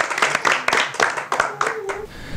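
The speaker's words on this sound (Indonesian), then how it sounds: "Sekali lagi tepuk tangan." Audience applause at a santri performance event at an Islamic boarding school in Cileunyi, with broad rhythmic clapping bursts from a nearby crowd, mixed with voices and cheering over the top.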